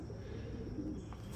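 Racing pigeons coo softly in a breeding loft's weaning section, low throaty calls rising and falling against a steady indoor background, moderately close, with no talking.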